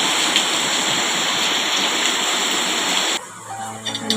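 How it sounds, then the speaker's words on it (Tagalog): Heavy typhoon rain from Carina pours in a loud, steady, dense wash for about three seconds, then cuts to a quieter indoor scene with faint dripping and clatter. "Napakalakas talaga ng ulan guys."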